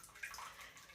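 Water running steadily from a tap that won't shut off in a damaged mobile home, where the clogged drain has let it overflow; a soft, continuous splashing hiss, fairly faint, with no talk.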